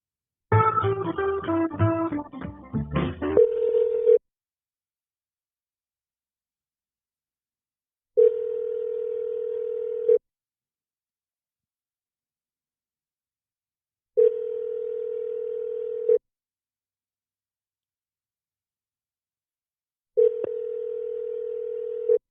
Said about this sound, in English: Let me transfer to our investigative sergeant.